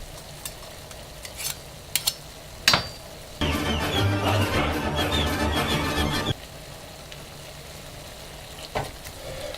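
Tomato paste being stirred into sautéed borscht vegetables in a pot: a steady, close sizzling and scraping burst of about three seconds, set between quieter stretches of low kitchen hum with a few sharp clinks.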